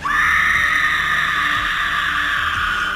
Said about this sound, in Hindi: अचानक आत्मा जोर से चीखी